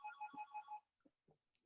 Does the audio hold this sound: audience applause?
no